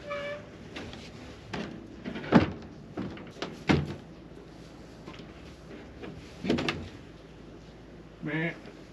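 A metal gate on a calf pen swings open with scattered clanks and knocks at close range, while faint voices and rustling continue around it.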